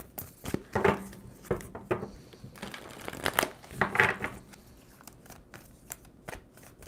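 A deck of tarot cards is shuffled by hand in bursts of papery riffling and soft slaps, irregular and close, with quiet pauses between handfuls and no talk.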